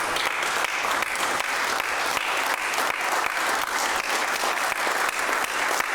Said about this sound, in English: All those in favor, stand up and clap